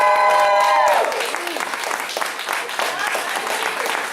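Audience applause at a martial arts belt ceremony in a family martial arts center, a steady clapping crowd that rises as a voice ends and continues on its own for several seconds.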